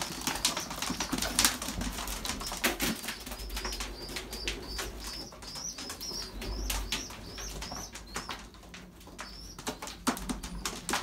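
Young racing pigeons flutter and flap their wings around their nest, with sharp wing claps and soft cooing scattered through a quiet outdoor background.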